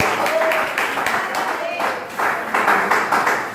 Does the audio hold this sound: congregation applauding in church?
yes